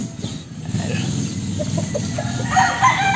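White Hatch gamefowl roosters clucking in a steady run and breaking into crowing, close and fairly loud, with several birds overlapping.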